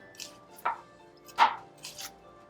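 A knife thinly slices shallot on a cutting board, a few sparse, soft cuts with quiet pauses between them.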